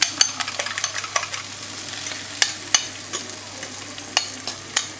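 Eggs and new potatoes stirred in a frying pan for a Spanish omelette with peppers, a run of sharp utensil scrapes and taps over a soft, steady sizzle, close and fairly quiet.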